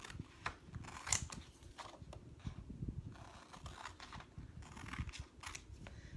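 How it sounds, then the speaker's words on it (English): Scissors snipping printed paper sayings apart along cut lines, a quiet, close series of irregular crisp snips and paper rustles with no talk. "I'm going to cut these apart on the lines"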